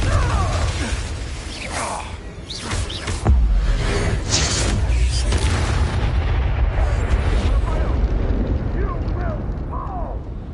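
A Confringo fire spell blasts in Hogwarts Legacy on PS5, a heavy booming explosion with rumbling debris and crackling tail, loud and close amid game effects and a speaking voice.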